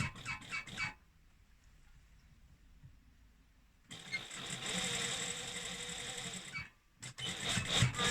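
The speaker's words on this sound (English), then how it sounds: "I'm just sewing it at the overlocked edge, so a foot width." A sewing machine stitches along the overlocked edge of a trouser pocket flap, running loud and steady in two bursts separated by a quieter pause, close by with no talk.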